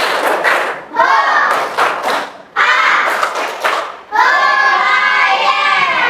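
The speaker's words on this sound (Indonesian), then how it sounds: "Coba tes semangatnya dulu. Tepuk semangat." Classroom of children doing a rhythmic spirit clap led by a teacher, loud bursts of clapping in patterned groups, interleaved with children chanting along.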